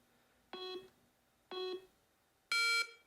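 A Mantis Laser Academy pistol training kit timer gives three short electronic beeps about a second apart, the first two matching and the last one higher and louder, in a quiet room.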